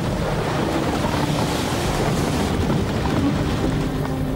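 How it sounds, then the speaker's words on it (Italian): Strong wind roars steadily through a violent summer thunderstorm in a dramatized scene, a dense, unbroken rush of noise buffeting the microphone from start to finish. "I fulmini e il forte vento rendono l'aeroporto quasi inaccessibile ai voli in arrivo."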